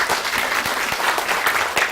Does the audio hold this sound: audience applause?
yes